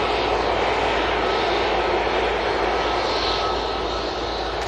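A Ryanair airliner arriving at Manchester Airport roars with a steady, loud, broadband engine rush that holds constant and close throughout, no voices.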